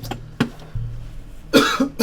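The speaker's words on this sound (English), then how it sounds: "sorry, I'm coughing" Several short, sharp coughs burst out close to the mic, spaced unevenly with quiet low hum between them, two in quick succession near the end.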